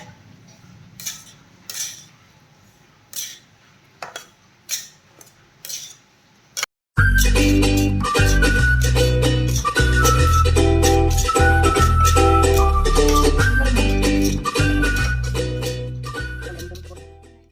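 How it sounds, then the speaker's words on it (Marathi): Semolina roasting in ghee in a pan, first a few sparse metal clinks, then continuous loud scraping and clattering of a spoon stirring against the pan, fading slightly at the end. "इथे आपल्याला सारखं हलवत रवा एक सारखा भाजून घ्यायचा आहे"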